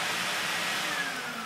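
A canister vacuum cleaner runs with a steady, loud, broadband motor roar and airflow whoosh, unbroken and close throughout.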